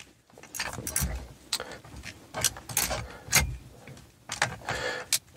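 Combination dials on a steering wheel anti-theft lock being spun by hand, producing a series of close, irregular plastic clicks and ratcheting rattles.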